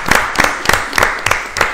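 Scattered hand claps from a small group, a few loud bursts spaced roughly every third of a second, close and fairly loud.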